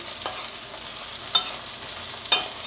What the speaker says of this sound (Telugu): ఉల్లిపాయ వేసాం కదా, మధ్య మధ్యలో తిప్పుకుంటా ఉండండి